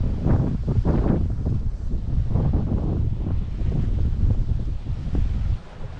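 Wind and sea waves rush steadily around a sailing yacht heading for Fair Isle, Shetland, with a loud, continuous broadband roar, gusty low buffeting and rolling swells, and no voices.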